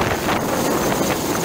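Strong, steady wind buffeting the microphone as a low-flying Chinese Navy helicopter passes over a sandbar near Pag-asa Island, a loud continuous roar with rushing gusts and no clear speech.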